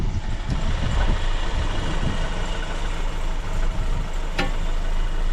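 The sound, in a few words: MK1 Ford Fiesta XR2 engine idling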